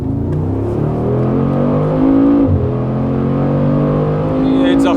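A Mercedes AMG G63 4x4² with a biturbo V8 accelerates from inside the cabin, a loud rising engine drone with a gear change midway, while someone talks over it.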